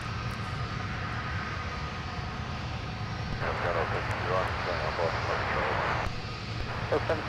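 A Delta Airbus A330-200 airliner at Minneapolis–Saint Paul airport produces a steady, distant engine roar, with a brief louder hissing rush midway, under a constant low rumble.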